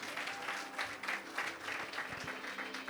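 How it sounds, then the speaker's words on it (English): A church congregation applauds its drama team, a steady wash of many hands clapping across the room at moderate volume, with no voice heard over it. "Can we give them a round of applause again?"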